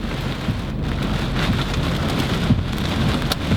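Heavy rain and a thunderstorm pound a car during a storm chase in Tornado Alley, with strong wind blowing outside; a steady, loud, dense wash of rain fills the whole stretch with no talking.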